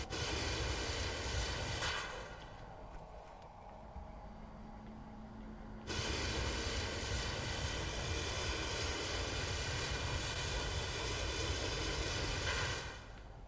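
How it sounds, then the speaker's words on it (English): Helicopters in Wolfenstein: The New Order, a steady loud rotor and engine drone that dips briefly, then returns at full strength and holds to the end, with no talking. "There's my helicopters."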